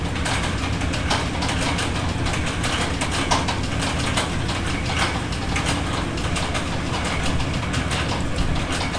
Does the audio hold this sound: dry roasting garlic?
no